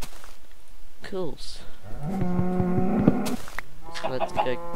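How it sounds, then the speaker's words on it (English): Blocky cows in Minecraft let out a pair of low, drawn-out moos, one short and one long, close and clear over faint background game sound. "So let's go kill these cows."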